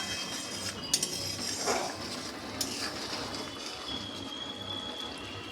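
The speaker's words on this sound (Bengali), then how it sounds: "এই দেখুন এটা ফুটে গেছে।" Tomato dal, made without lentils, bubbles steadily in a pot, a continuous soft simmering hiss with a few faint clinks of a utensil against the pot.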